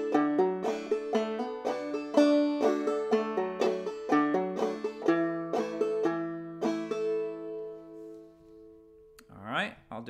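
Clawhammer banjo playing the fiddle tune Soldier's Joy, a quick bright run of plucked notes and brushed strums in steady rhythm, close and clear, fading to a ringing finish with a short noise at the end.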